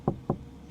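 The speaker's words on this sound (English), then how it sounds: "Knock on the window." Two quick knocks on the window of a Winnebago EKKO camper van at a winter campsite, close, sharp and hollow, about a quarter second apart, with no talking.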